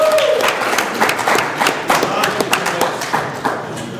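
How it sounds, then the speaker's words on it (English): An audience at a recovery convention claps throughout, with a dense steady patter of many hands and scattered sharper claps, fairly close and loud, with no talk over it. "So he deserves a round of applause."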